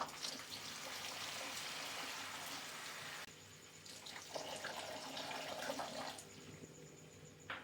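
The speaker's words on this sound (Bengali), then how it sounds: "এবার জল দিচ্ছি।" Water is poured into a cooking pot holding rice and fish heads for Bengali muri ghonto, producing a soft, continuous splashing stream that briefly drops off, then resumes as a trickle and light splashes.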